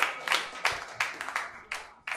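A few scattered, separate claps from a small audience at a comedy roast battle, sparse sharp hits spaced irregularly rather than full applause.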